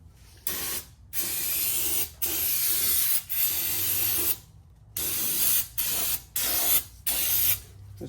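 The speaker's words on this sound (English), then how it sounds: "This we'll spray it off with some brake cleaner" Brake cleaner sprayed from an aerosol can onto an F150 6R80 transmission pan in a series of about eight short hissing bursts separated by brief pauses, close and fairly quiet.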